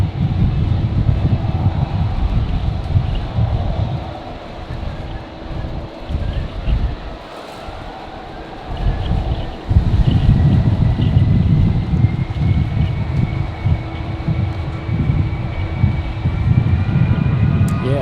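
An airliner takes off on a windy day at Brisbane Airport, a loud, sustained jet roar with heavy wind buffeting the microphone; the noise dips briefly midway before swelling again and holding strong to the end.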